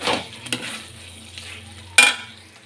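Potatoes are stirred and fried in a pan for an aar fish head dish: a faint sizzle with a few light utensil clinks and one sharp, louder scrape near the end.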